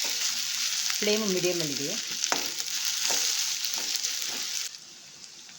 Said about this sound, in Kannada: 1/4 ಸ್ಪೂನಷ್ಟು ಬೆಳ್ಳುಳ್ಳಿ ಶುಂಠಿ ಪೇಸ್ಟ್ ಹಾಕ್ಕೊಳ್ತಾ ಇದ್ದೀನಿ. ಇದು ಫ್ರೈ ಮಾಡ್ಕೊಳ್ಳೋಣ.